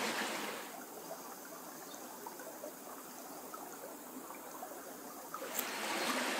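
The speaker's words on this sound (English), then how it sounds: "there's a river running right by here" A river runs right beside a Scottish garden, its steady hissing rush filling the scene at an even, moderate level, fading briefly before returning.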